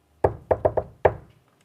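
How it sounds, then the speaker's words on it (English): Five sharp knocks on a farmhouse door, loud and close, in an uneven rhythm with a short pause before the last rap, with no voices. "Let's knock on the door."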